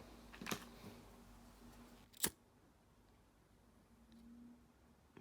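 Two quick snips of scissors cutting thread in beadwork, the second sharper and louder, in an otherwise quiet room.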